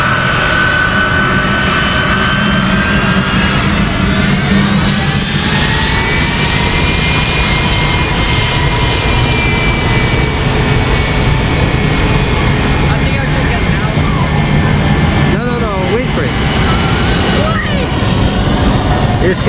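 A WestJet Boeing 737 blasts its jet engines at Maho Beach, a loud, sustained roar with rising whine that fills the whole stretch, with people shouting and talking over it.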